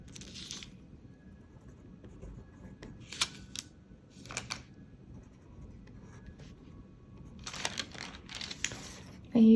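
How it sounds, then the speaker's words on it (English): Tracing paper being lifted and handled during a geometry rotation lesson gives faint, crinkly rustles that come in several short bursts over a quiet room background. "So I'm going to lift up my tracing paper here"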